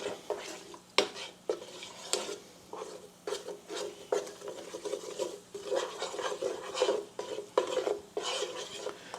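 A wooden spoon stirs gravy stock in a pot with a steady scraping, sloshing rhythm. Sharp knocks against the pot's sides break up the stirring throughout, and the sound stays fairly close and moderate in level.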